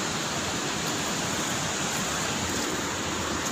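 Dangari waterfall in Jashpur, Chhattisgarh, heard as a dense, steady roar of falling water, loud and close with no pauses, filling every moment without any voices.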